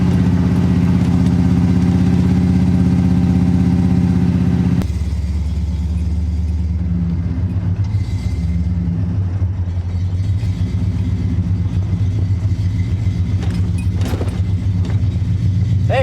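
An EFI-swapped AMC AMX runs loud and close, its engine droning steadily with a deep rumble that shifts pitch partway through as the car is driven along the road.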